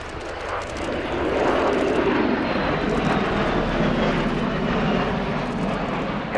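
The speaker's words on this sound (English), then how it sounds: "CV-22B Osprey." A Bell-Boeing CV-22B Osprey tiltrotor of the US Air Force makes a fast pass at an air show in England, its loud, steady rotor and engine roar filling the air throughout.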